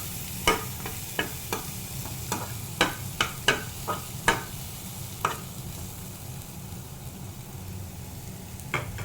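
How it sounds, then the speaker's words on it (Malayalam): Onions frying in a pan until brown for a Kerala pappadam curry, a soft low sizzle punctuated by a dozen or so sharp spatula taps and scrapes against the pan, close and fairly quiet. "ബ്രൗൺ കളർ ആവുന്നത് വരെ നമുക്ക് ഫ്രൈ ചെയ്ത് കൊടുക്കാം"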